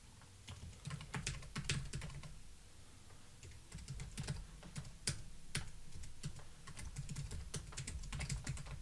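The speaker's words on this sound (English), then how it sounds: "It's not advised to talk while you're typing a password." Someone types a password on a computer keyboard, a steady run of close, quiet key clicks in irregular bursts with brief pauses, no voices.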